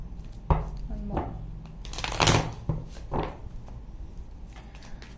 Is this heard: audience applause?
no